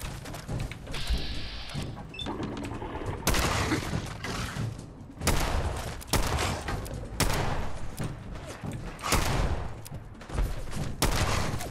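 Gunfire from shooting enemies in the video game Fallout 4, repeated bursts and sharp shots recurring every couple of seconds at close range, loud and punchy throughout.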